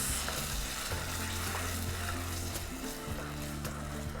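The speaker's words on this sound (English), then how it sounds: "Give it a good mix" Sausages being stirred with passata and herbs in a hot pan; a steady, loud sizzle and bubbling runs throughout, with soft scraping of the stirring.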